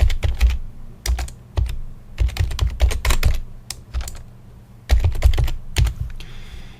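A website address is typed on a computer keyboard in quick bursts of close, crisp key clicks separated by short pauses, with no talking.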